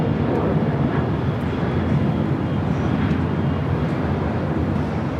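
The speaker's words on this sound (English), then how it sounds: "A350 heading to the south side" An Airbus A350 jet airliner at Los Angeles LAX airport gives a steady, broad engine roar that holds at an even, fairly loud level throughout, with no voices.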